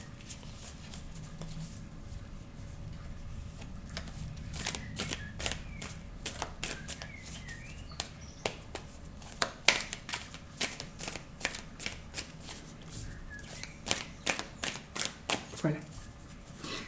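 Tarot cards shuffled by hand for a weekly reading, a close run of crisp riffling snaps and flicks that grow denser toward the end, with soft background noise.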